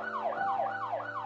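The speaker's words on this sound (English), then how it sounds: "David Dahlberg was rushed by ambulance from Olympia to Seattle." An ambulance siren wails in a rapid, repeating yelp, each rising and falling sweep following closely on the last, loud and steady over a low engine hum with no voices.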